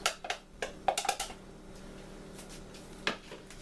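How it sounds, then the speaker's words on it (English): Brussels sprouts and onions being stirred in sesame oil in a pan, with a few light clinks and scrapes of a utensil against the pan, clustered at first and then spaced out, faint and close. "And just give them a stir so they get nice and coated with oil."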